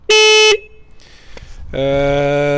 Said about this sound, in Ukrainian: також присутній в нас пішохідний гудок і дорожній гудок